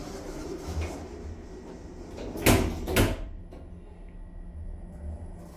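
Doors of a 2007 Otis Gen2 lift at a TK Maxx store in Leicester slide shut with two close thuds, over a low, steady hum of the car.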